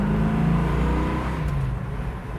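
A 1968 Chevrolet Camaro with a big-block engine revs loud and close through its exhaust pipes, a deep sustained roar with rising and falling pitch and no speech.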